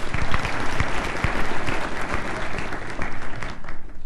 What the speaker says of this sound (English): give yourselves a round of applause for making it here